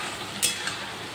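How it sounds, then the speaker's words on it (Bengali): Cauliflower and potato frying in a pan, heard as a steady sizzling hiss with one brief scrape of a stirring utensil partway through. "ফুলকপিটা ভালো করে ভাজা হয়,"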